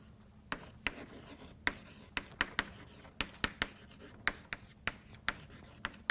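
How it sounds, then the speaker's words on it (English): Chalk or marker writes on a board in quiet, scratchy strokes, punctuated by frequent sharp taps as each line starts, in an uneven rhythm. No one speaks during it. "Okay, let me write this way."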